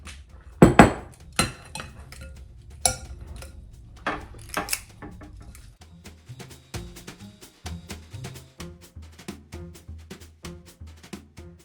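Chicken nugget mixture made with canned chicken for gluten-free nuggets is scooped onto a cookie sheet, giving sharp clinks and knocks of a metal scoop against the pan, loud early, then a quicker run of lighter regular taps, with no talking.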